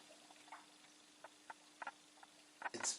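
Vinegar poured over eggshells gives off faint, sparse crackling and tiny pops, with a small burst of fizzing at the end in an otherwise quiet room.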